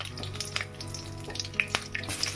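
Dry red chillies and five-spice seeds frying in hot mustard oil, a soft steady sizzle dotted with small crackles and pops, quiet and close.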